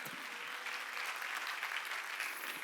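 Church congregation at a Sunday worship service breaking into sustained applause, a dense wash of many hands clapping steadily at a moderate distance for the whole stretch.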